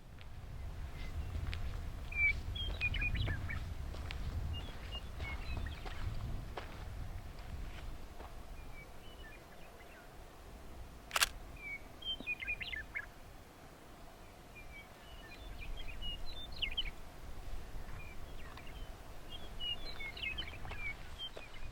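Faint, scattered chirps and calls from a bird in the quiet desert come in short, repeated bursts over a low wind-like rumble, with footstep-like scuffs in the background.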